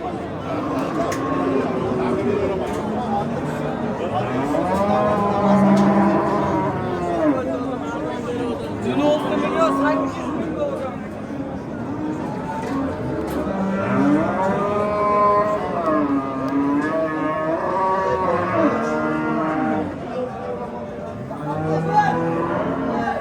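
Cattle at a busy livestock market in Shahidon, including heavy cows and heifers, moo repeatedly in long, loud bellows that rise and fall throughout, over a steady crowd hubbub and nearby voices talking.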